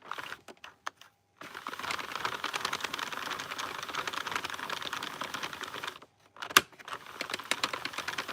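A knitting machine with a loose part gives a steady run of fast, dry mechanical clicks and clatter, close by and moderately loud, broken by short pauses and a single sharper click.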